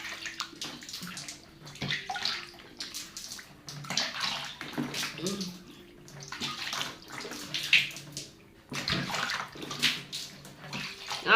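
Water splashes and sloshes in uneven bursts as a face mask is rinsed off skin by hand, with irregular pauses between splashes. The sound is close and moderately quiet.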